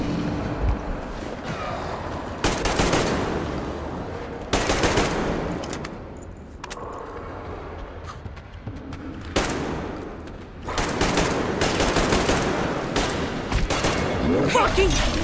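Heavy automatic gunfire from the Metro Exodus first-person shooter in the Institute level, loud bursts of rattling shots alternating with brief lulls, someone shouting in between.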